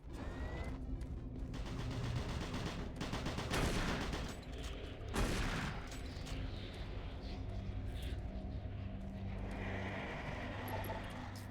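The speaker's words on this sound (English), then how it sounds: "The super shotgun!" Super shotgun blasts in Doom 3 BFG Edition, heavy booming shots with a sharp burst near 3.5 and 5 seconds, set in a loud, rumbling game mix of machinery and combat noise.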